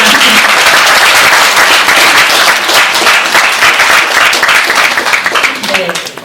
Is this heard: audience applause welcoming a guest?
yes